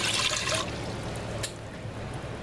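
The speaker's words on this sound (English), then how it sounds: "what I'm going to add is a cup and a half of water" Water splashes briefly into an electric Farberware pressure cooker holding frozen pork steaks, a short close pour that tapers into a quieter trickle.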